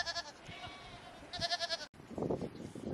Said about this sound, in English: Oh, and a little goat.